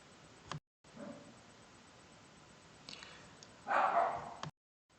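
A dog barks indoors, a short burst of one or two yappy barks near the end after a few faint sounds, moderately loud against a quiet room with no talk.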